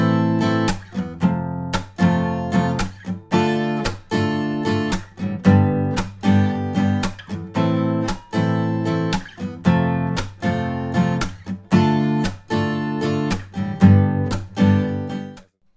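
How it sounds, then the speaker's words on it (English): Acoustic guitar strumming with a percussive palm slap on the strings, steady rhythmic chords with sharp slapped accents in a repeating pattern, close and alone. "the slap is done by bringing down the palm of our hand on the strings at the exact time when we would normally strum them to create that percussive sound"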